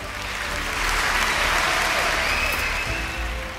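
Audience applause for a mother at a motivational talk, steady clapping from a crowd that swells and holds for a few seconds before easing slightly, with no voices over it.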